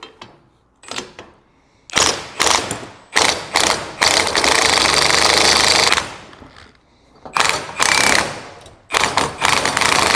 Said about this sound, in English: we're gonna have to tighten the spring a little bit more